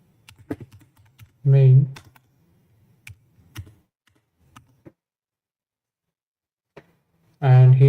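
Code being typed on a computer keyboard in a Go programming session, light scattered key clicks between and under a man's speech, with short pauses of quiet.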